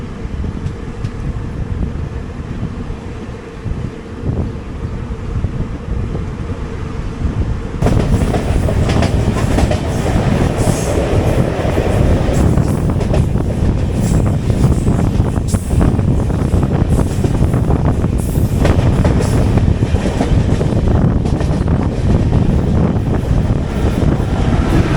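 A Garib Rath Express train runs steadily at about 80 km/h, with a continuous rumble and rattle of the wagons and wind noise. The sound grows louder and fuller partway through as the pace picks up.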